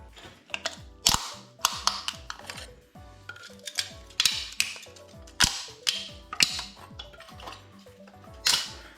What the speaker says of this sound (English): because I'm breaking all the fins